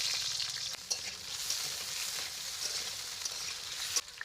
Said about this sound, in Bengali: সবজি আমি ভেজে নেব। প্রথমে তেল গরম হয়ে গিয়েছে